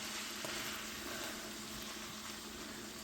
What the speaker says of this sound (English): we're just wanting that stuff to simmer